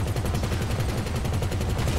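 Continuous dense booming and crackling blasts from game combat, loud and steady throughout, like rapid explosions and gunfire layered over each other.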